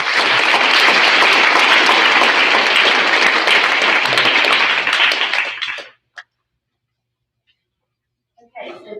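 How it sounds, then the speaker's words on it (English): An audience at a school sixth-grade awards ceremony claps in loud, dense applause for about six seconds, then stops abruptly into silence before a voice briefly resumes. "All right, round of applause for ELA."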